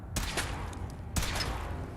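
Weapon fire in the video game Fallout 4, two sharp loud blasts about a second apart, each with a short rumbling tail over a low background.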